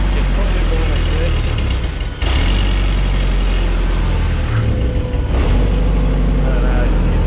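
A poorly tuned engine with a fuel pump problem runs rough at idle, a loud, continuous low rumble with an uneven, lumpy pulse that dips briefly a couple of times, close by, with faint background voices.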